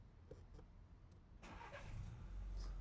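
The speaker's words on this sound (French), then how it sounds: "là le monsieur va démarrer le véhicule" A 2021 Volkswagen T-Roc Cabriolet Style with a petrol engine starts up. A couple of soft clicks come first, then a quiet crank, and the engine catches and settles into a low, steady idle.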